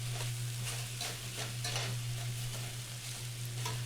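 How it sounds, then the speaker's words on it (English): Onions sizzle in a hot pan with beef while being stirred, a steady close frying hiss broken by repeated scraping strokes of the spoon, with no voices. "Now we're going to put in the vegetables."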